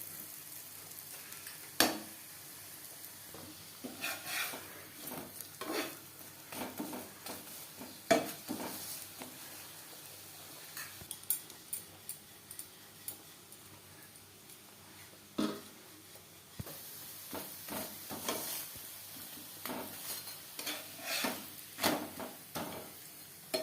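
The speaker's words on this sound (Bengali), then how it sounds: "দু তিনবার উল্টে পাল্টে পরোটা ভাজা হয়ে গেছে" Spinach paratha sizzling in a pan for a long stretch, a soft ongoing hiss broken by repeated scrapes and taps as it is turned two or three times.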